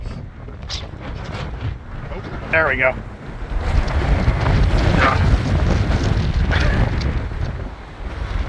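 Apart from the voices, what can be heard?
strong wind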